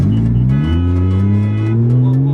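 Loud Porsche GT3 RS engine revving hard during donuts with traction control off, close and sustained, pitch climbing and holding high with a brief dip partway through.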